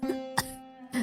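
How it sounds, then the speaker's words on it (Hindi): An elderly woman lying on a torn mat in a poor home coughs in three short, harsh bursts, close and fairly loud, with brief quiet gaps between them. "कमरे के कोने में एक फटी हुई चटाई पर उसकी माँ लेटी है और लगातार खांस रही है।"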